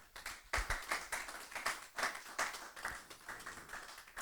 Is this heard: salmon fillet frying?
no